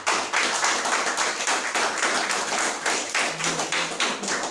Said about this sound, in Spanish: le vamos a dar un aplauso grande a César.